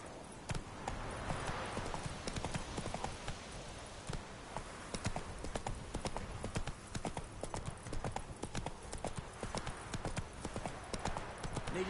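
Roach, Geralt's horse in The Witcher 3 on PS5, sends out a steady run of rhythmic hoofbeats that carry on without a break. Faint game ambience sits underneath.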